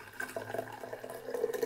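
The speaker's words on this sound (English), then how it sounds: "So what I'm going to do is strain out the water kefir" Water kefir poured through a nylon mesh strainer into a jug, a soft steady trickle and splash of liquid running for under two seconds, close and fairly quiet with no talking.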